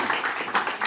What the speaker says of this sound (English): Can we give her a warm hand of applause?